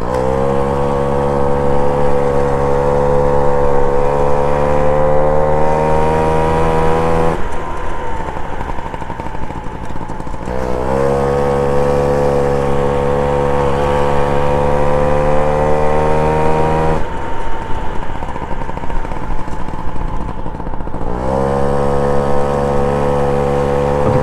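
A vintage Motobécane 51V moped engine drones steadily and loudly while being ridden, its buzzing note dipping briefly about three times as the rider eases off, then rising again.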